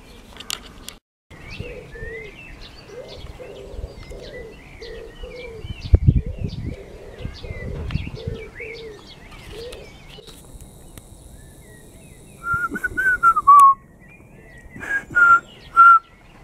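A mimicking bird warbles and chirps outdoors near a motorhome in Germany, with repeated short whistled phrases and cooing notes, then louder, brighter calls toward the end.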